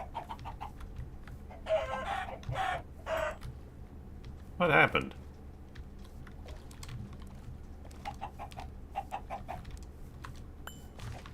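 Minecraft chickens in the GregTech New Horizons modpack cluck in several short bursts, with one louder squawk midway and softer clucks scattered after, while a person speaks briefly.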